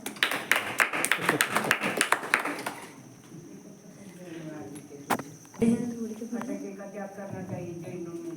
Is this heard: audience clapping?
yes